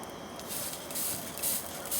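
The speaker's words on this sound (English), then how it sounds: "Okay, go ahead and spray it." Several soft hissing spritzes of a spray bottle of water at irregular intervals, fairly faint against a steady background rush of outdoor noise, while salmon bakes in a smouldering pit.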